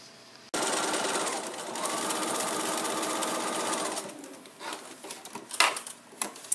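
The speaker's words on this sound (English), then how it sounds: "I'm actually going to go to the sewing machine and do the exact same thing here" A sewing machine stitches a quarter-inch quilt seam, running steadily for a few seconds with a fast mechanical whir, then stops, followed by some light handling clatter.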